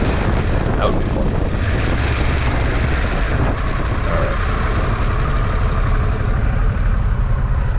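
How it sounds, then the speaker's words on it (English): A 2022 Harley-Davidson Pan America motorcycle engine rumbles low and steady while riding, half buried under loud, constant wind roar across the microphone. "So I don't love the sound of the bike. But it really doesn't sound that bad when you really get on it."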